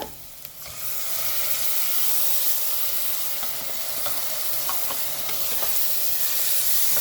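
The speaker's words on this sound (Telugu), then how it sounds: "ఇప్పుడు ఇది బాగా ఫ్రై చేసుకోవాలి. టమాటాలు వేసుకుందామమ్మా." Tomatoes and masala sizzle and fry steadily in oil in a pan for a capsicum curry, a dense continuous crackle with occasional stirring scrapes, close and fairly loud.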